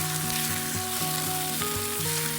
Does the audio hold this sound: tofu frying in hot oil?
yes